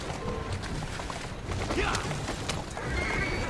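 In Assassin's Creed Syndicate, a horse-drawn carriage rattles along with steady clip-clopping hooves and a loud whinny from the horse, amid game crashes and clatter, close and continuous.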